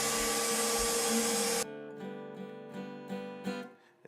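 A KitchenAid stand mixer whirs loudly for a moment while mixing granola ingredients, then cuts off and leaves faint clatter and knocks close by.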